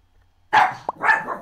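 A dog in the Emily Is Away 3 video game barks in a short burst of a few loud, close barks after a brief silence, with a tiny yip between them.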